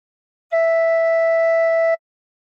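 A single steady, clear tin whistle note, top four holes covered and blown hard, held for about a second and a half, bright and pure with no breath noise or wavering.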